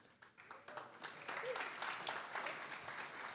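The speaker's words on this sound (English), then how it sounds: "So applause to you." Audience applause at a business seminar, a quiet and distant wash of many hands clapping that grows slightly fuller partway through.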